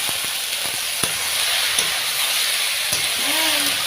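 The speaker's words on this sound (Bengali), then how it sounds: "এবার নেড়ে চেড়ে সিদ্ধ করা ইঁচড়টা দিয়ে দেবো।" Boiled jackfruit sizzles loudly in hot oil in a pan, with a steady close frying hiss and several sharp clicks and scrapes from stirring; a faint whistling tone rises near the end.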